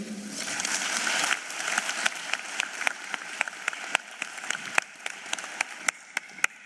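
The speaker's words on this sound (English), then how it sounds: "Another round of applause, please, for MTN SA CFO, Ms. Dineo Molefe." Audience applause at a matric results announcement ceremony, starting as a full crowd wash that thins into scattered, individual sharp claps spaced unevenly as it dies away.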